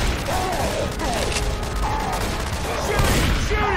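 Gunfire in Left 4 Dead 2 plays out in a fairly steady, busy rattle of shots, with players' voices talking over it.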